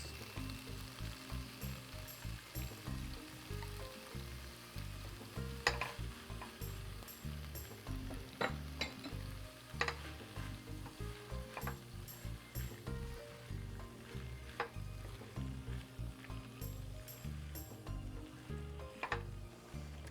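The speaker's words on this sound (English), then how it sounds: "I'm adding the cooked macaroni and the cheese sauce." Cooked macaroni and cheese sauce for a kimchi mac and cheese stirred in a hot pan, a soft sizzle under a steady rhythmic series of thick, wet stirring strokes with a few sharp clinks, close and even throughout.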